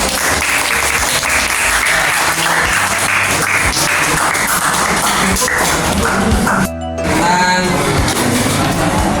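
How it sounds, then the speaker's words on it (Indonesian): A crowd claps steadily and loudly for several seconds after a presentation on akikah, dense applause that briefly cuts out near the end before resuming. "Kita kasih aplaus"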